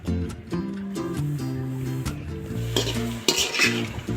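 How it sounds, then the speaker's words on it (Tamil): Okra stir-frying in hot oil in a pan, with a spatula scraping and clinking against the metal over a steady sizzle in short repeated strokes, close up and with no talking. "சும்மா ஆயில் ஊற்றி எண்ணெயிலே நல்லா வெண்டைக்காயை நல்லா வதக்கிட்டு"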